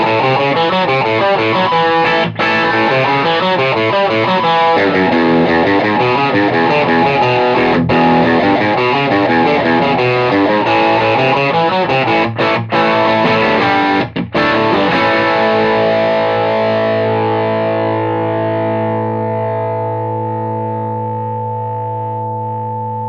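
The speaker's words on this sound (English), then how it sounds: "it's really loud here in the room, and that's definitely going into feedback there" Electric guitar played loud in a room through a TS808-style analog overdrive pedal, heard as distorted chords and riffs with a few brief cuts, then a held note that swells into sustained amp feedback and slowly fades.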